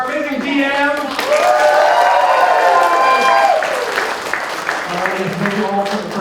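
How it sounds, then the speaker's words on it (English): Audience at a comic and entertainment expo tabletop show breaking into steady applause and clapping that swells then tapers, with voices and cheers mixed in throughout. "let's give a little round of applause for our amazing DM"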